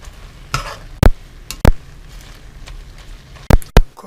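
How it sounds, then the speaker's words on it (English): Kale cooking down in a hot pan, a handful of sharp stirring scrapes and clacks with a soft sizzle between them, close and fairly loud. "Cooking down the kale."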